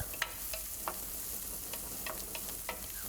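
Garlic and onion fry gently in a pan for a ridge gourd stir fry, a low steady sizzle with light, irregular stirring clicks and scrapes of a spoon against the pan.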